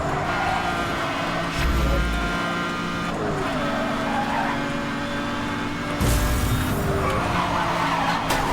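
A car drifts sideways in Need for Speed: Hot Pursuit (2010), its engine droning steadily while tires squeal and skid in loud bursts, with a heavy low thump and another surge of screeching near the end.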